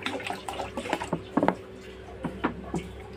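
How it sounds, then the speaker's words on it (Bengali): Water poured into a pot of washed rice for cooking, heard as a series of short irregular splashes and gurgles at close range, with no voices. "তো এবার আমি বেশি করে জল দিয়ে ভাতটা করার জন্য দেবো, যার জন্য আমি জল দিয়ে দিচ্ছি।"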